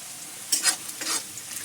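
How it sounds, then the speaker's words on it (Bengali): Onions fry in a pan under a soft, low sizzle while a spoon stirs them in a few quick scraping strokes, each stroke a brief louder burst, close by and without talk. "আর পেঁয়াজটা ভালো করে নেড়ে চেড়ে নেবো।"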